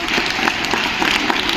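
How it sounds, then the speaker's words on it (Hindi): A crowd of students at a school assembly in Lanji, Balaghat, clapping steadily for a student, a dense, continuous wash of many hands without pauses. "बजाओ भाई ताली इस बच्चे के लिए"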